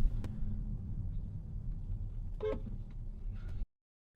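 A car horn gives one brief honk at about the midpoint, a short toot on a dashcam-style road recording over steady road and engine rumble.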